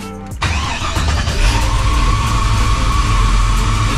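A car engine cranks and catches after a brief pause, then settles into a steady, loud idle that runs close and continuous, with no talk over it.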